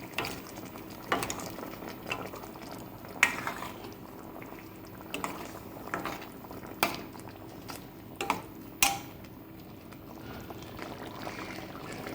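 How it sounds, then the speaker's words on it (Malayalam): Fish curry with ground spice paste bubbling steadily in a pot, a soft continuous simmer broken by small pops and occasional clinks of utensils, fairly quiet and close with no talking. "അരപ്പ് ചേർത്തിട്ട് മത്സ്യക്കറി നന്നായിട്ട് തിളച്ചു"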